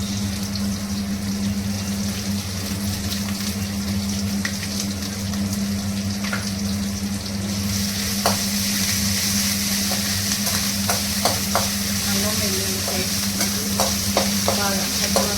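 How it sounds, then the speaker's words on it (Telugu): Ginger garlic paste fries and sizzles steadily in a pan while cauliflower fry is being made, with a constant hiss and low hum, plus occasional scraping stirs and small pops growing busier toward the end. "బాగా పచ్చివాసన పోయేవరకు ఫ్రై చేసుకోవాలి"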